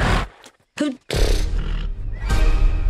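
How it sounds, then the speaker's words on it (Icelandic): A wild stallion from an animated film neighs and whinnies loudly, rising over broad rumbling action sounds and music, with brief silent gaps between bursts. "Þessi hestur hefur villtan anda."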